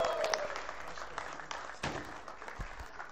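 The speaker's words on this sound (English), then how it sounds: "a huge round of applause" Scattered, fairly quiet clapping at a company stock listing ceremony in a hall, with a few sharper individual claps and thumps amid light room noise.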